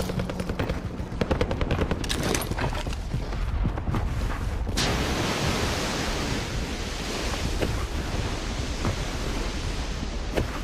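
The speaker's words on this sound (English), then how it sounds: "Where are you getting shot from?" Gunfire in a video game: rapid bursts of automatic fire crackle densely for the first few seconds, then give way to a loud, sustained rushing roar with scattered sharper shots, no clear talk.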